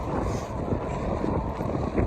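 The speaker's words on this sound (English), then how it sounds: "Extremely windy out here." Strong outdoor wind buffets steadily as a dense, continuous rushing roar, loud and close throughout.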